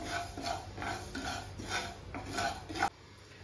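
Dry rice grains roasting in a pan for kheer, stirred steadily to a light golden brown, give rhythmic scraping, rattling strokes roughly every half second, close and fairly soft, with no talking.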